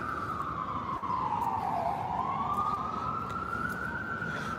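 A siren wails continuously through the street, its pitch sweeping slowly down and back up over steady traffic rumble.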